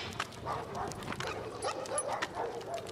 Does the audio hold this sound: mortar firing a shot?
no